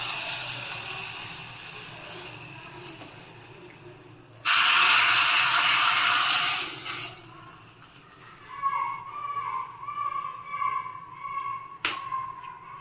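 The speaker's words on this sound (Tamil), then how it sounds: "இப்போ தாளிச்சு கொட்டில் போட்டுக்கலாம்" Hot tempering is poured into papaya kootu and bursts into a sudden loud sizzle that lasts about two seconds, then fades into quieter crackles and clinks of the pan.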